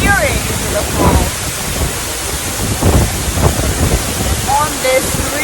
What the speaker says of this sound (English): on this really rainy, wind blowing day